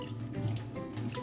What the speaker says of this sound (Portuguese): Ligamos a água